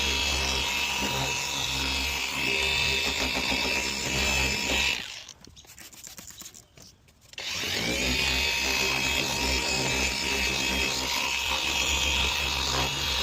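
A machine sander buffs a 2011 Honda Accord headlight lens with 3000-grit abrasive, a loud steady whirring hum that drops out briefly midway with some handling noise, then resumes at full strength, close up.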